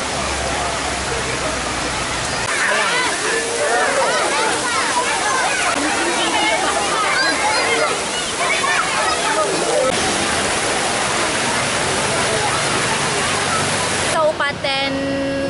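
A waterfall at Tapak Tuan in Aceh Selatan, a roaring, steady rush of falling water filling the scene up close, with voices briefly audible near the end.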